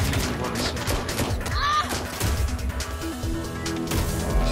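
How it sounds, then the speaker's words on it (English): Rapid gunfire aimed at the player in Watch Dogs Legion, a loud, continuous barrage of shots and impacts close up, with some speech-like noise mixed into the chaos. "It keeps shooting me."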